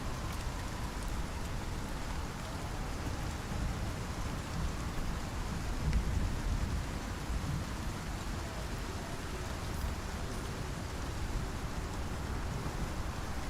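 Ice storm in the survival game Icarus: steady rain hisses on surfaces with a faint low rumble of thunder underneath, a continuous quiet wash of weather without voices.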